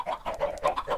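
Chickens in a Minecraft chicken farm give short rapid clucks, five or six quick bursts in a steady bobbing rhythm, close and moderately loud.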